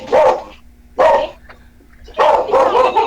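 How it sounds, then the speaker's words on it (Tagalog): A dog barks loudly and close by in three separate bursts, the last one a quick double bark, with brief quiet gaps and a faint steady hum between them. "maingay yung aso"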